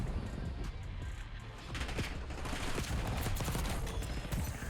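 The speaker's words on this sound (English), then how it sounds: "now we got a rapid fire LC-10 to see how this thing feels" Rapid-fire LC-10 gunfire in Black Ops 6, a dense, continuous stream of loud shots with brief pauses, steady throughout.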